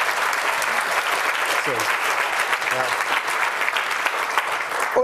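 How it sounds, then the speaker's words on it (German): Loud, dense audience applause at a hacker conference talk on stage, sustained clapping throughout with a brief spoken word and faint voices beneath. "Danke für den Applaus"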